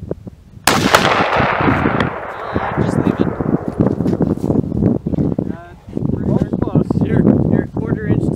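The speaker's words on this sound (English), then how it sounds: "Shoot a couple more before you do that." A rifle fires a single loud, sharp shot during sighting in at a shooting range, and its boom rolls off over the following seconds. People talk before and after the shot.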